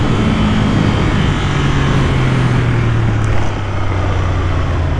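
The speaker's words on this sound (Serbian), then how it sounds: "Kako volim ovaj zvuk indukcije" A Ducati Monster 600 motorcycle engine drones steadily while riding, its low intake note rising slightly in pitch, loud and continuous under heavy wind rush with no voices.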